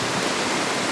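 A small waterfall and stream tumble near a Shinto shrine in Japan, a steady broadband rush of flowing water, close and even, with no other sounds.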